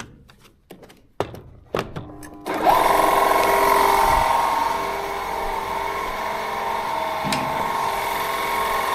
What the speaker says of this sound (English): The compressor needs to run a little bit first.